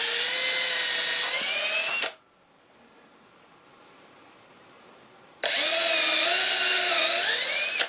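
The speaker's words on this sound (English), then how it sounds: "I'm trying to drill between the squares of the cage." A power drill drives screws into a wire rabbit cage, whining loudly in two close bursts of steady high-pitched spinning separated by a few seconds of near quiet, with no talking.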